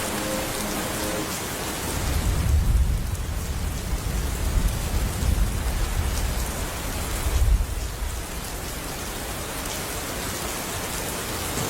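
Heavy rain pouring down in a steady, dense hiss, swelling louder twice with low rumbling gusts, continuous throughout and heard alone without voices.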